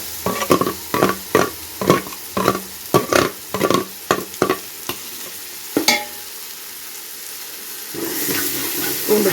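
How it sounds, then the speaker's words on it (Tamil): Ginger and garlic being sautéed in a pan for biryani, with a regular series of sharp stirring scrapes and sizzling bursts, close and loud, then a steadier frying hiss near the end. "பூண்டு போட்டு நல்லா ஒரு நிமிஷம் வதக்கி விடுங்க"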